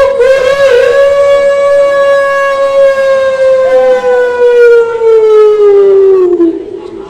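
A voice imitates a rooster crowing at a Maulid Nabi gathering in a prayer hall. It is one loud, long, held call through amplification, rising slightly and then sliding down as it fades out.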